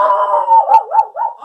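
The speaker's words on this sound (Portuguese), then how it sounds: "Vocês estão ouvindo o som do meu cachorro?" A dog gives a close, loud, wavering howl with a few bark-like yips breaking in, lasting about a second and a half with no talk over it.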